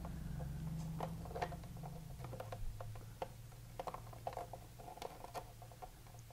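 Bullnose lineman pliers twist several copper conductors together for a pigtail electrical splice, producing faint, irregular clicks and creaks over a steady low hum.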